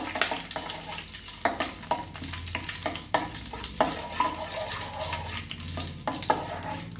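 Cumin and pepper fry in a pan for a healthy moong dal rava pongal, giving a continuous close sizzle with crackles and periodic scraping stirs, and no talking.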